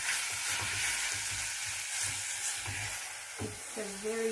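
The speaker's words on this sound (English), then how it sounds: "cook it, you fry it a little bit." Tomatoes with salt frying in a pan for a bolognese sauce give a steady close sizzle with soft stirring knocks, ending with a brief tonal sound.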